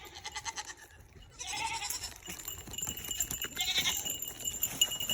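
Goats on a farm bleat close by, a few wavering calls rising after a quieter start, with some rustling and clatter around them.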